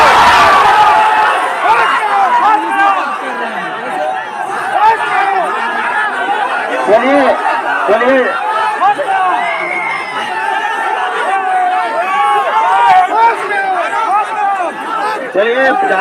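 A large protest crowd at a Gondwana community demonstration in Kondagaon, many voices chattering and shouting at once, loud and close, a dense continuous roar of overlapping talk.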